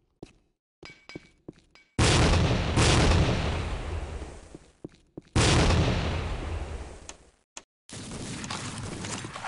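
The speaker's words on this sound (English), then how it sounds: "Fire in the hole!" In the video game Tactical Ops, a loud grenade blast booms and rolls off long, followed by another big explosion, with scattered gunshots and clicks before and between the blasts.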